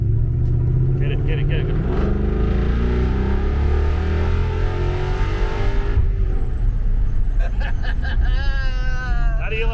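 A Coyote-swapped Ford F-150 truck accelerates on its first drive, a loud continuous engine rumble rising in pitch beneath excited voices talking and cheering throughout.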